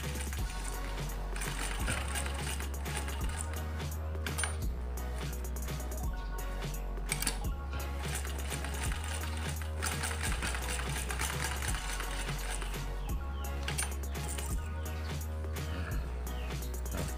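A sewing machine runs in repeated bursts during a performance test, its motor whirring with a rhythmic mechanical clatter, stopping briefly and restarting several times at moderate volume.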